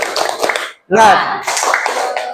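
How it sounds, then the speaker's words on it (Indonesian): In a school lesson, a group of children and their teacher perform a rhythmic clapping chant, loud claps mixed with chanted voices, close and energetic with a short gap partway through. "mari kita awali dengan tepuk semangat"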